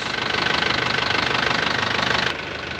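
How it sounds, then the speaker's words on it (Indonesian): A 2007 Isuzu Panther LS Turbo diesel engine idling with a steady, even knocking pulse, close and continuous, the tone dropping slightly near the end. "Suara mesinnya juga khas bagus."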